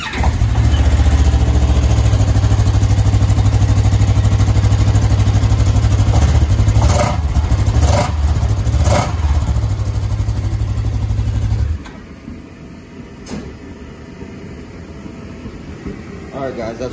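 Kawasaki KRX side-by-side on its stock exhaust, cold started and running with a loud, steady rumble that drops off abruptly toward the end, with some clatter and talking nearby.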